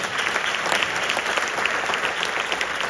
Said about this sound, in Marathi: जोरदार व्हायला पाहिजे टाळ्या.